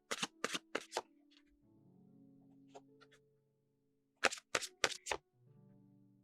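Oracle cards are shuffled in bursts of quick, crisp riffles: a rapid flurry at the start, a quieter stretch with soft card handling, then a second clear flurry near the end, close and otherwise silent.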